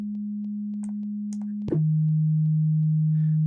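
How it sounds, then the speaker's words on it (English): WaveShifter synth plug-in playing steady sine-like tones: a constant low tone holds, then shifts slightly lower with a brief click at the change, with faint short blips scattered above, no voices. "WaveShifter is the name of this, and it's doing some fun things with the phase."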